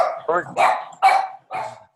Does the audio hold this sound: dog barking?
yes